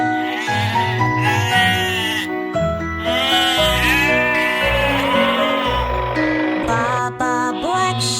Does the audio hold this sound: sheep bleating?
yes